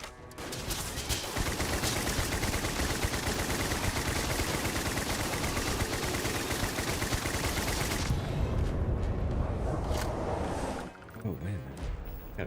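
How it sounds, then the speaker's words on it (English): Gatling gun and heavy machine gun fire in the video game Starfield: dense, continuous automatic gunfire roaring loudly for several seconds, then thinning into scattered bursts and a brief lull before resuming. "Time to get the big boy guns out now. The kaboom sticks. And the Gatling guns. And heavy machine guns."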